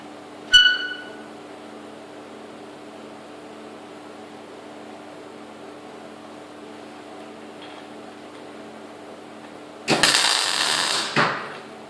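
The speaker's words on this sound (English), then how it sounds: "This should be welded as close as possible to this edge." MIG tack welds being laid on a car chassis frame during a Super 7 Locost kit car build in a garage, two short bursts of hissing, crackling arc near the end after a long quiet stretch with a faint background hum and one sharp tap at the start.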